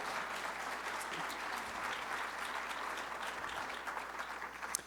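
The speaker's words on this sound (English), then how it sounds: "You can applaud that, please." A conference audience claps for U.S. Secretary of Labor Eugene Scalia, with sustained, even applause from a large crowd at a fairly quiet level, heard from a distance.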